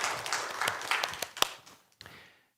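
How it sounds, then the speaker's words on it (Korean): A church congregation claps together in praise during a Sunday worship service, the applause building in uneven bursts with a few sharper claps standing out before it thins to scattered claps and fades near the end. "하나님께 영광의 박수 올려드리겠습니다."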